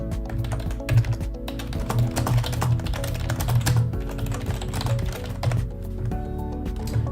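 Steady keystrokes on a computer keyboard while an email is written, a continuous run of close, light taps with occasional louder clicks and no voices.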